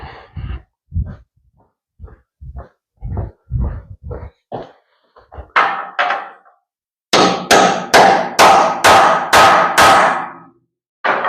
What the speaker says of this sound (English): I thought that one's going to need a hammer a little bit.